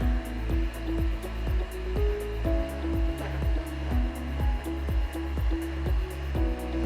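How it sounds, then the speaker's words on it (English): A heat gun on a low setting blows steadily onto car paint, a continuous airy roar with a faint regular pulsing beneath it, close and fairly loud with no talking. "we're going to use a heat gun on a low setting to simulate the vehicle sitting outside in the sun"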